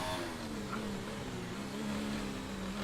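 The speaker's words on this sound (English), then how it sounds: "Turbo sounds like a bunch of broken bits," An F1 car with a ragged, broken-sounding turbo races the Azerbaijan Grand Prix street circuit in the F1 2019 video game, giving a steady, faint engine drone with a sustained whine and no talk.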